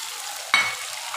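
Chicken sizzling in a pan for achar gosht as tomatoes go in, with a sudden louder hiss and clatter of ingredients hitting the hot oil partway through, then a steady frying crackle.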